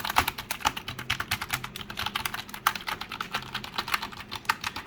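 Steady run of quick typing on an NPET WK20 wireless keyboard, light tapping keystrokes in a dense, even rhythm, close and fairly quiet, with no voices.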